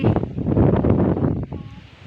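Heavy wind buffets the microphone in a loud, continuous rumbling roar that eases off slightly toward the end.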